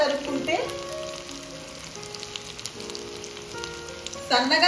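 Thinly cut pieces fry in a generous amount of hot oil with a continuous close sizzle, while a voice talks over much of the frying.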